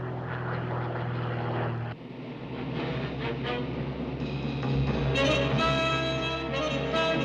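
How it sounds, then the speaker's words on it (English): A light propeller aircraft draws nearer, its steady droning engine growing louder and fuller, with a shift in tone partway through as it closes in. "It's definitely a light aircraft. And getting closer, too."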